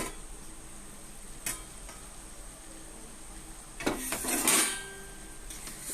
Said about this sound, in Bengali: আমি এবার ঢাকনা খুলব